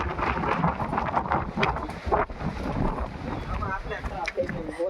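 Strong wind sweeps across Girnar mountain near Junagadh, a continuous, loud roar buffeting the microphone for the whole stretch, with indistinct voices faintly mixed in.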